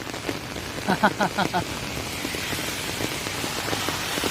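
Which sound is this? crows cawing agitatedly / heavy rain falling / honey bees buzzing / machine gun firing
heavy rain falling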